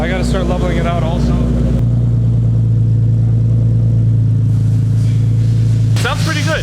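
A Nissan 370Z fitted with a Greddy Evolution GT cat-back dual exhaust revs loudly and steadily, with a deep droning engine note that holds at a high pitch through the middle of the clip and settles back down at the end.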